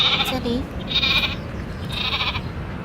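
Recorded sheep bleats come from a sound book, with two or three nasal, wavering calls at even intervals over a low background hum, and no voice imitating them.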